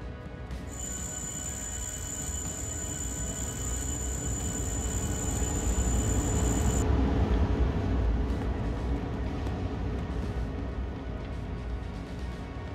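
A train rolls into Sucha Beskidzka station in the video game Train Driver 2, a steady heavy rumble with a high, piercing squeal over the first half before the rumble carries on alone.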